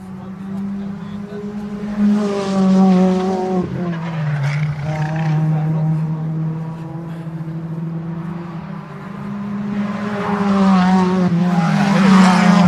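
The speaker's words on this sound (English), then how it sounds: "The cars coming round now. This is their sort of outlap." Ford Fiesta Junior Championship race cars lap Cadwell Park circuit on an outlap, engines droning and revving in a sustained, loud buzz that builds as more cars pass.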